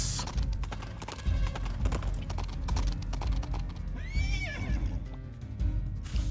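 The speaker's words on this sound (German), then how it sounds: "Pferdchen!" In the Princess Peach Showtime video game, a horse gives a bright, rising-and-falling whinny over a steady, loud patter of clip-clopping hooves, with no talking.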